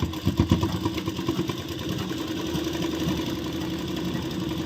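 A sewing machine stitching a seam on palazzo pants starts with a rapid rhythmic run of needle pulses, then settles into a steady whirring motor hum, close by with no speech.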